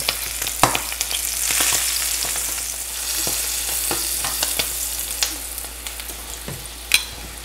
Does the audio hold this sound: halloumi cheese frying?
yes